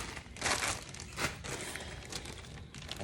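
Crinkling plastic and paper as wick stickers for gel candles are peeled and handled, a few louder crackling bursts among steady soft rustling, close by with no talk.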